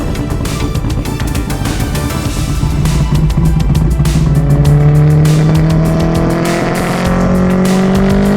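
A 1000 HP K24 all-wheel-drive Honda Civic revs and drives down the road, its engine loud and close, rising through several gear pulls with tire noise and no talking.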